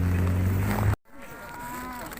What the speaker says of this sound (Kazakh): Үлкен сиыр екен.